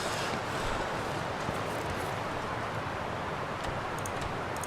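Steady roaring wind sweeps across a snowy wilderness in the survival game The Long Dark, a dense continuous gust-filled rush with no pauses, loud and alone.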